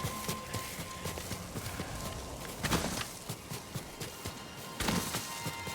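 Horse hooves clip-clop steadily while riding in the video game Ghost of Tsushima, a rhythmic run of close hoofbeats with a couple of louder bursts, no speech.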